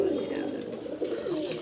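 Pigeons coo steadily in a loft, a low continuous murmur of overlapping calls with faint background voices.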